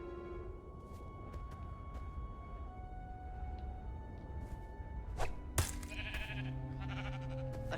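A sheep bleating in Minecraft Story Mode after an egg is thrown, short tonal calls near the end over a low game music bed, with a few whooshing swishes scattered earlier.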